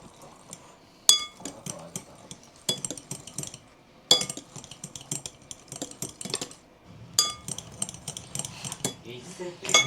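Spoon clinking and scraping against a bowl while melted butter is stirred for banana bread, irregular bursts of sharp metallic taps, close up, with quiet talk in between.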